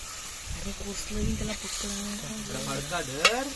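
Oysters sizzling in hot oil during tempering, with stirring and scraping, and someone talking over the frying.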